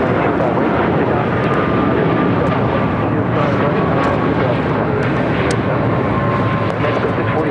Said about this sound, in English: This is Aeromexico 647 taking off to La Ciudad de Mexico on a 787-8 Dreamliner